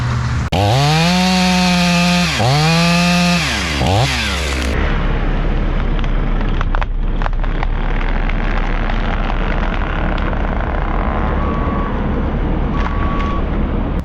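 A chainsaw runs loud and close, its engine rising and falling through revs as it makes the back cut in a tree during lot clearing, then drops to a lower rough idle amid woody rattling.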